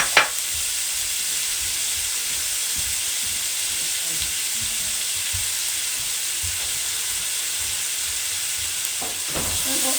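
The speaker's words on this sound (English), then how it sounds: "Just want to like kind of fry them up a little bit." Green peppers and onion fry in a pan, giving a steady, close sizzle and hiss that runs unbroken with no voices.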